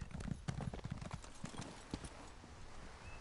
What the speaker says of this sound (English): Got a nice horse.